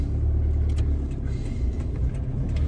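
A manual car pulls away as the clutch is released and the accelerator is pressed gently, a steady low engine rumble building slightly from close inside the cabin, with no talk.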